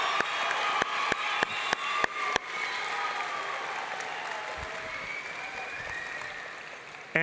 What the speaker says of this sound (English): Let's give them one more big round of applause to honor their hard work.